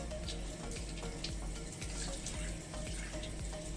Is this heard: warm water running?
yes